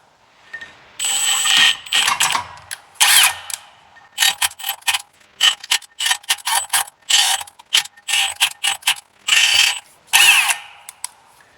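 A power drill bores into a steel flywheel in repeated short bursts, starting and stopping with a loud, close grinding whine, pausing briefly between each run.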